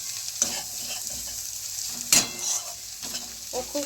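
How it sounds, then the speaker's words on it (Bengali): Pasta and a splash of soy sauce are stirred in a hot pan, giving a continuous sizzle cut by a few scraping strokes of the utensil, close and with no voices. "এই যে এবার হালকা করে নেড়ে নিচ্ছে"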